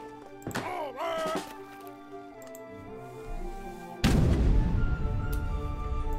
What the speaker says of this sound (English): And now that we have our mortar, let's put it to good use